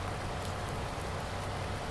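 Steady rain falling in Farming Simulator 19, a dense, even hiss of drops filling the whole moment with no breaks.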